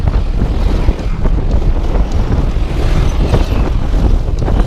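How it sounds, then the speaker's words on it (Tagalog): Strong wind roars steadily against the microphone while cycling uphill, a loud, continuous rumbling buffet with no pauses. "Oh my god, ang lakas ng hangin."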